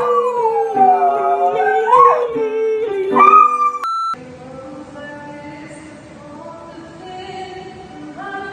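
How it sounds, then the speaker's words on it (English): A dog howls in long, wavering, rising and falling tones while a person sings alongside, the two voices overlapping, then the howling continues more softly with whimpering tones. "I had to kick my dog out of the house because he wouldn't stop howling whenever I would sing."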